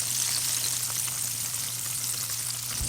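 Breaded spicy chicken deep-frying in oil over medium heat, giving a steady, dense crackling sizzle that holds evenly and close throughout with no voices.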